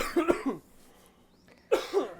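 Two short bursts of coughing, the first a quick triple hack, then a pause and a second raspy cough, close and fairly loud.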